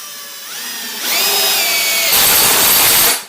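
A power drill drives a single-thread woodscrew into wood, its motor whining up in pitch as the screw bites and speeds, then loading and stopping after about three seconds, loud and close with no talk.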